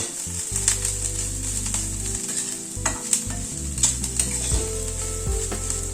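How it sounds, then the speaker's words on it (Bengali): Spices sizzle and are stirred with onions in a pan for an okra dish, a steady close frying hiss broken by repeated scraping strokes of the spatula. "এবার এই মশলাটাকে একটু পেঁয়াজের সাথে কষিয়ে নেব"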